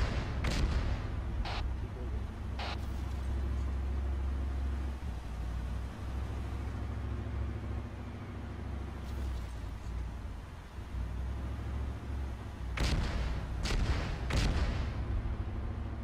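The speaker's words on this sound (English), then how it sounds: "is that mortar fire we're taking?" Heavy booms from mortar and gunfire roll over a constant low rumble of engines in the Altis Truck Simulator game, with several sharp blasts clustered near the end and voices talking over the action.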